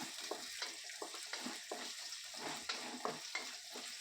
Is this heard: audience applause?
no